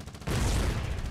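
Naval deck guns fire in the war game Foxhole, an abrupt loud blast followed by a heavy rumbling roar and crackle, with no talk over it.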